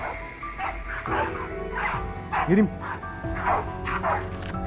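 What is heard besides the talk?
hunting dogs barking at cornered wild boar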